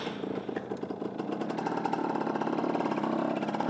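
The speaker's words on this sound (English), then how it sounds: "So I started up, seems like it's got a good battery, comes on bright and clear, seems to start" A 1984 Yamaha YB100 two-stroke motorcycle engine running steadily after starting, with a loud, close, continuous buzzing rattle throughout and no voices.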